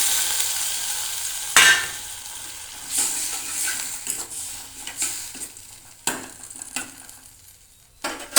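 Water goes into a hot pan of frying broccoli, bursting into a loud hiss and then settling into an uneven sizzle. Several further flare-ups and stirring scrapes follow, with no voices.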